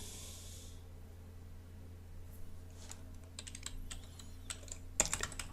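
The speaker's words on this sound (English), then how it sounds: "I'm gonna type here" Typing on a computer keyboard produces sparse, faint key clicks that pick up into quicker taps with a sharper clack near the end, over a low steady hum.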